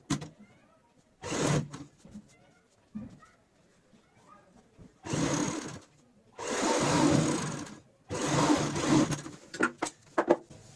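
A sewing machine stitching a cushion cover runs in several separate bursts of whirring, each a few seconds long, split by quiet pauses with faint handling noises.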